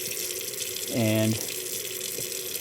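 A kitchen faucet on its cold side gushes water steadily for about half a second, loud and close, over a background hiss, with a brief spoken word nearby.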